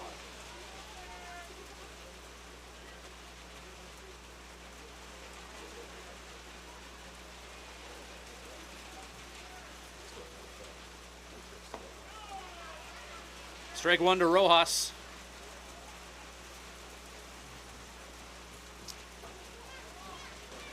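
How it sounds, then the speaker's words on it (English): Heavy rain pours steadily over a Swift Current Indians at Weyburn Beavers baseball game, a constant soft hiss under a play-by-play commentator, with a brief louder burst of crowd or field noise near the middle. "we'll see how much more rain here the umpires tolerate as it's really starting to come down"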